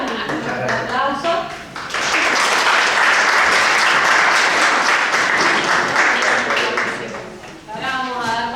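An audience at an interview event applauds a guest, with steady clapping that swells, holds for several seconds and then fades, while a voice speaks before and after.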